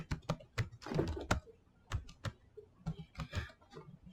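Computer keyboard being typed on while configuring wireless network settings, an uneven burst of close, crisp key clicks and taps with short pauses between groups.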